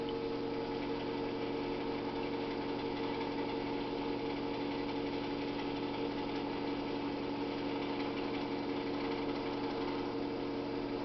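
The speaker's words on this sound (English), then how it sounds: "now I'm going to pump it back up to 20 inches" A pump raising pressure during a zero-and-span gauge calibration gives a steady, even mechanical hum that holds unchanged throughout at low level, with no voices.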